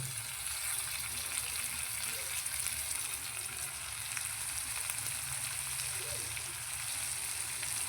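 Tomatoes fry in a pan of onion masala spiced with Kashmiri red chili and garam masala, for a prawn masala curry. A steady, close sizzling hiss runs throughout without pause.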